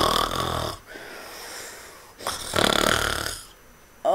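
A voice imitates a bear snoring with two drawn-out, rasping snores separated by a breathy pause, close and fairly loud.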